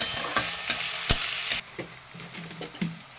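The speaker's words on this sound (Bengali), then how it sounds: "এবার আমি কেটে রাখা পেঁয়াজগুলো দিয়ে দিচ্ছি দিয়ে হালকা নাড়াচাড়া করে ভেজে নেবো" Sliced onions fry in a pan while being stirred, giving a steady close sizzle broken by repeated sharp scraping knocks of the spoon at irregular intervals, with no one speaking.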